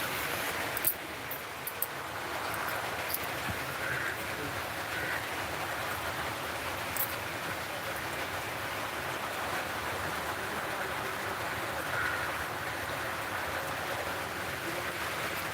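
Heavy rain pours onto a rooftop in a steady, dense hiss that holds unchanged throughout, moderately quiet and continuous, with no voices over it.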